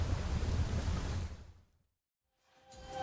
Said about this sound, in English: Precious rain.